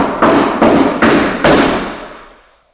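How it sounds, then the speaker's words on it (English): Four loud, heavy bangs on a door in quick succession, each booming close by, with a reverberant ring that fades out after the last blow. "Bang on the door like this."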